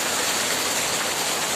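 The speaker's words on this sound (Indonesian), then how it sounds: "pada bocil main hujan" Heavy rain pours down steadily, a dense unbroken hiss at close range from start to finish, with no voices standing out.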